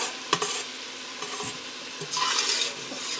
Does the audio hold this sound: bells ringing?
no